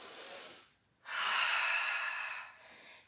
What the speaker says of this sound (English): keep on breathing